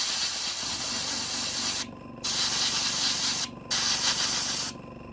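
An airbrush sprays paint in a steady hiss across the axle boxes of a Standard 4 model locomotive tender, with three short pauses where the airflow cuts out before resuming, close and continuous.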